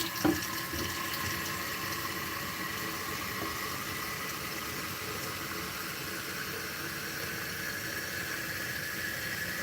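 Water runs steadily from a kitchen tap into a container, a constant broadband rush lasting throughout with a brief clunk near the start and no talking.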